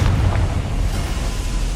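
Confringo blasting spell detonating in Hogwarts Legacy, a loud, dense explosion with a deep rumbling roar that holds steady throughout without tailing off.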